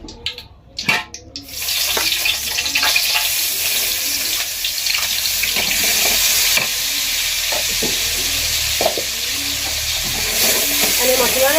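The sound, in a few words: blended spice paste frying in oil in a wok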